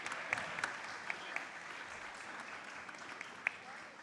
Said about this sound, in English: We can have another round of applause for our team Night Manager